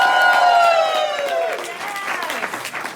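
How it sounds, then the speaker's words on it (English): A live comedy dating show audience applauds and cheers for the bachelor, a dense burst of clapping with whooping voices that starts loud and gradually tapers. "give him a round of applause"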